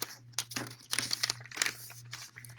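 A greeting card slid into a translucent plastic envelope, with several short crinkling, rustling bursts of handling close by and a steady low hum underneath.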